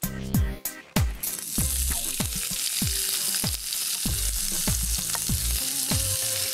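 Cumin seeds and dried red chillies sizzle loudly in hot oil in a pan, a steady frying crackle broken by repeated sharp clacks of a spoon stirring and knocking against the pan.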